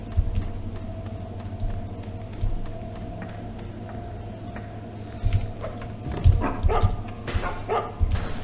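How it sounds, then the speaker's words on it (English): A guard dog in a stealth video game barks in scattered yelps that grow busier and louder toward the end, over a low humming background. "Dog smells trouble."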